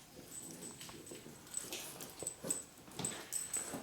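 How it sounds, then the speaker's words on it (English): Small dogs playing tug of war with rings outdoors, giving faint whimpers and soft scuffling, with a thin high whine coming through now and then over a quiet background. "The little mutts are out here."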